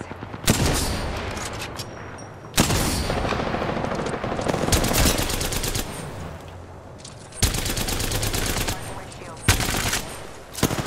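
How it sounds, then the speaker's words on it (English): Video game gunfire in a ranked match, loud rapid automatic bursts in several long volleys separated by short breaks, close and dominant. "I'm sniping. Opening fire."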